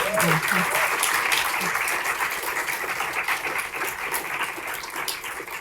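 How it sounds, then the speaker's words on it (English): Sustained applause from a conference audience honoring a senator at an SSI policy event, a steady dense wash of clapping that fades slightly toward the end, with faint voices underneath. "I think Senator Harkin deserves a second round of applause for that."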